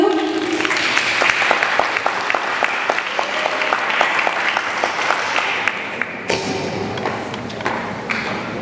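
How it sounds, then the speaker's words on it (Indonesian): Audience applause at an Indonesian talk show on bipolar disorder and managing fear, a dense steady clapping from the crowd that carries on for several seconds before dropping off sharply near the end, with a few sharper claps standing out. "Tepuk tangan dulu."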